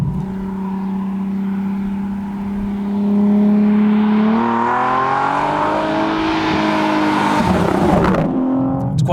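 A naturally aspirated Nissan 370Z Nismo engine drones at about 2000 RPM in a fairly high gear, then climbs gradually as it pulls harder, loud and close, with a brief shift near the end.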